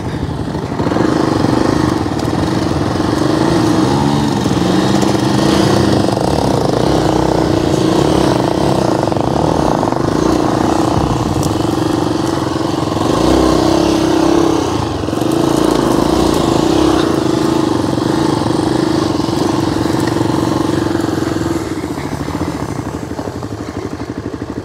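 Motorcycle riding along a sand road between a school and fishing camps from Uchchimunai to Kalpitiya, its engine a loud, steady droning hum with faint clatter throughout, with occasional voices in the background.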